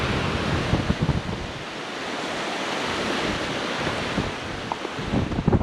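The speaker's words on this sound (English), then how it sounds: "when the tide's raging, the water's splashing over here" Ocean waves wash and splash against the rocky shore at Drakes Beach in Marin, a continuous roaring surf with swelling crashes, mixed with gusty wind buffeting the microphone nearby.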